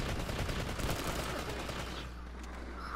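Rapid video game gunfire crackles at a distance as a steady stream of shots. It fades and thins out toward the end.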